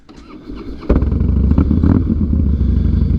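A Harley-Davidson Night Train with freshly replaced spark plugs fires up close by, a short starter crank followed by a loud, deep, lumpy V-twin idle that rumbles steadily to the end.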